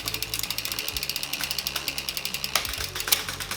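A mountain bike drivetrain freewheeling after a shift, its ratchet pawls clicking in a fast, even, close-up rhythm that carries on without pause.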